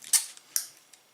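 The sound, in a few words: cutting into plastic bottle top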